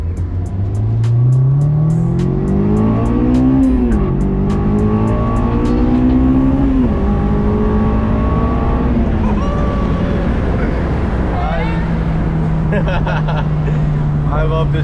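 A car drives and accelerates, its engine note climbing through several rising sweeps and gear changes before settling into a steady cruise, loud and close from inside, with people talking over it.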